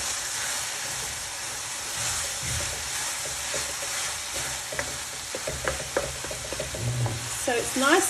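Lamb mince sauce for lasagne cooks dry in a pan with a loud, steady sizzle and hiss, broken by frequent spoon scrapes and taps that pick up near the end.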